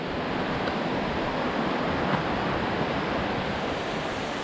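A continuous broad rushing of a large river flowing nearby in the Scottish Highlands, steady and full, with no voices over it.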